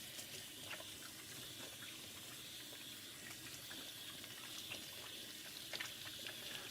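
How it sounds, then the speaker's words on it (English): Cold water is poured into hot water while preparing food for tlayudas, giving a faint, continuous trickling and splashing that runs steadily with no one speaking. "I'm gonna add a little bit of cold water to it"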